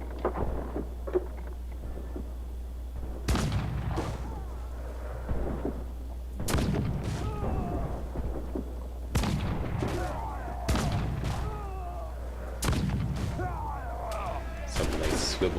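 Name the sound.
swivel gun fire in Assassin's Creed 4 video game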